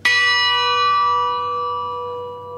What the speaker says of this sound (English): If I strike the bell again